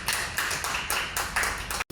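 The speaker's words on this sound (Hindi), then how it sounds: "ज़ोरदार ताली हो जाए" Lecture audience clapping loudly in rhythmic waves of applause, several swelling bursts of many hands over two seconds, cut by a brief dropout near the end.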